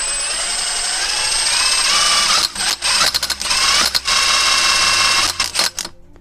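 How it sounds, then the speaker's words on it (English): A power drill fitted with a 22mm socket spins an alternator pulley, a loud, close, high-pitched whir broken by several abrupt stops and restarts before cutting out at the end. "we get the drill with the 22mm"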